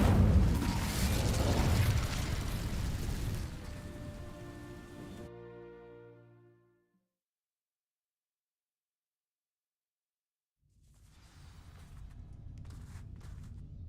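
Dry vines catch the Incendio fire spell in Hogwarts Legacy, a loud crackling burst of flame that fades into a tonal ring, then total silence, then faint rustling ambience returns.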